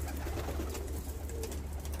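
Van pigeons cooing in a low, continuous murmur, several birds overlapping against a steady background hiss.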